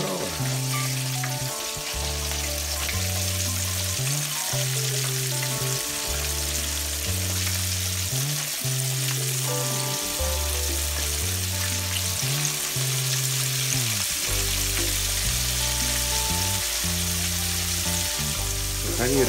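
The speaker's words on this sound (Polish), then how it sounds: "Kochani, rybka się smaży." Salmon head and belly pieces frying with garlic in a pan, a steady, loud, continuous sizzle and crackle close up, with a low rhythmic patterned background tone running throughout.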